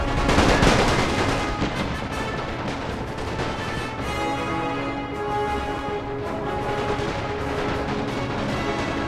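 Musket volleys crackle in a Napoleon Total War battle played with The Great War mod, dense overlapping gunfire that rolls on continuously at a loud, steady level with no talk.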